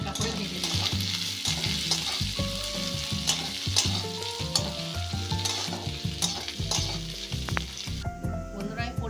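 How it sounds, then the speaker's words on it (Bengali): Small fish and pea greens fry and sizzle in a pan, a steady, close hiss under frequent stirring and scraping that runs continuously without any voices. "এবার হালকা করে ভেজে দিলাম।"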